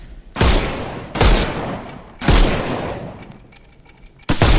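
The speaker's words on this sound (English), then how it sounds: "Shoot off their armour" Gunshots in the video game Sherlock Holmes Chapter One: four loud, sharp blasts with booming low ends and decaying tails, spaced about a second apart, with no talking.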